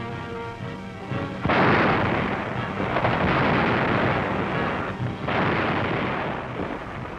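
Artillery guns firing at the Russian front in wartime: a continuous deep, rolling roar of heavy bombardment with overlapping booms, loud and sustained, swelling in waves.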